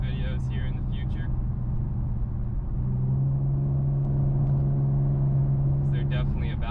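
An Infiniti Q50 with a loud custom exhaust rumbles close by with a deep, steady drone that rises slightly midway, while a person talks over it at the start and end.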